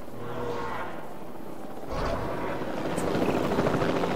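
A helicopter in the video game Jurassic World Evolution 2 gives a steady rotor rumble that grows louder and fuller partway through, with game sound mixed in and no clear talk.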